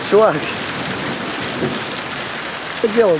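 Heavy rain from a thunderstorm in Kimovsk patters steadily through leaves overhead, a dense, even hiss, with a voice speaking briefly at the start and end.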